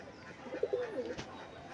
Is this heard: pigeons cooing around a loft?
yes